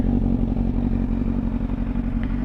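A motorcycle engine idles heavily just after a cold start, giving a steady, low, throbbing rumble with faint mechanical clatter, close and continuous with no talking.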